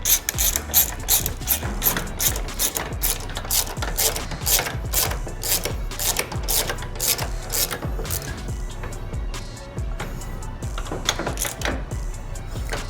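A torque wrench tightens the Brembo brake caliper bolts on a 2023 BMW M 1000 RR superbike, with rapid, loud, close ratcheting clicks in quick bursts and brief pauses between strokes.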